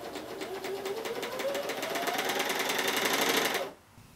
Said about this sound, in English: the best platform for our purposes is a sewing machine